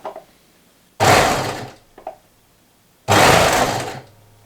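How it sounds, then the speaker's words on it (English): Two loud bursts of a sewing machine running, each about a second long, with a brief clunk between them in an otherwise quiet room. "I actually did have a few issues with my new sewing machine as well."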